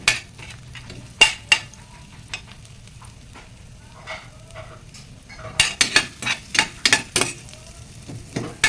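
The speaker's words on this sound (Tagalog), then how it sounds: "Hintayin natin na mag-brown ang ating bawang" Garlic sizzles softly in a pan while a metal utensil scrapes and clinks against it, with sparse strokes at first and then a quicker run of sharp stirring knocks.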